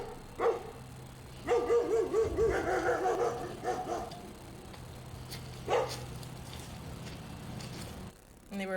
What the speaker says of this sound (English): that was just the video of the dogs barking when I was getting the mail